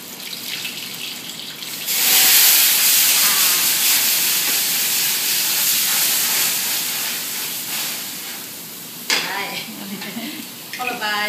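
Tiger prawns are flambéed with cognac in a hot pan, and a loud, sudden burst of hissing sizzle and steam swells, then eases off, broken by a few scraping clatters near the end.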